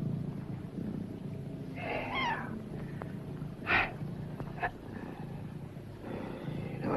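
A cat meows a couple of times in a dark indoor setting from a 1960 film, with soft, mid-distance mewing cries over a steady low background hum and a few faint clicks.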